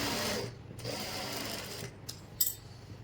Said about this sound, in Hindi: कच्ची सिलाई लगा के पॉकेट को पैंट के साथ अटैच कर देंगे